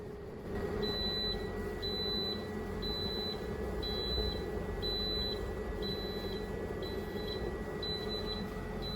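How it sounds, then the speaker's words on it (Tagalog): Inverter low-battery alarm on a solar setup with a LiFePO4 battery near 11 volts, sounding a steady, evenly spaced series of short high electronic beeps roughly once a second over constant low hum. "Lobat na. Mag-a-alarm na yung inverter natin."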